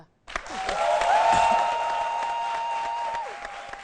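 Studio audience applauding on the set of a French-language midday TV talk show, a steady wash of clapping that swells quickly and holds at moderate loudness, with a tonal musical line running through it.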